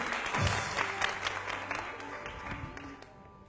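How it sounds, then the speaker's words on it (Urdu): Studio audience on a morning TV show clapping for a guest, a broad wash of applause with some voices mixed in, fading toward the end. "تو ان کے لیے تالیاں بجائیں۔"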